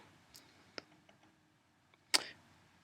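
A computer mouse clicks Open in animation software, heard as a few small faint clicks followed by one sharper, louder click in a quiet room.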